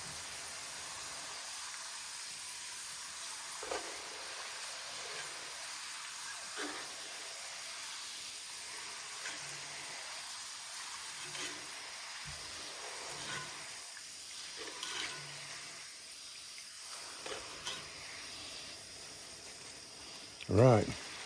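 Fries frying in hot oil at a campsite, a steady broadband sizzle and hiss running throughout beneath intermittent talking, ending with a brief sharp clank near the close.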